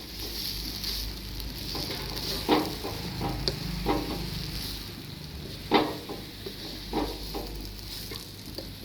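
Samosa filling, spiced and a little chilli-hot, stirred in a sizzling pan with a soft, continuous frying hiss. Irregular scrapes and knocks of the spoon against the pan cut in, with two louder clacks.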